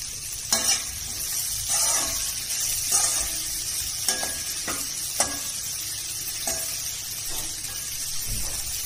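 Okra bhindi masala sizzles in a pan while being stirred, a steady close frying hiss punctuated by repeated scraping strokes of the spoon.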